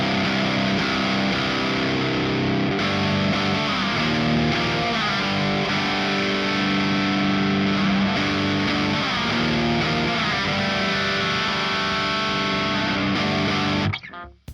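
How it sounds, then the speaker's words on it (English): An electric guitar played through a Marshall JCM 800 amp with no pedal in front gives a loud, continuous distorted tone, chords ringing out with sustained crunch before cutting off sharply at the end. "this is a Marshall JCM 800 with no pedal in front of it"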